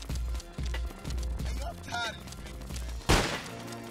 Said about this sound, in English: Somebody's behind me just shooting me